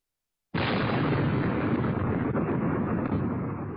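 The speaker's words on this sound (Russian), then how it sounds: "Взрыв на заводе «Авангард» был такой силы, что его услышали за несколько километров от предприятия." After a brief silence, a massive factory explosion hits suddenly and keeps roaring as a dense, sustained rumble that fades only slightly.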